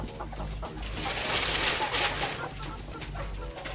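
Chickens cluck softly in the background, scattered short calls over a steady low hum with some faint movement.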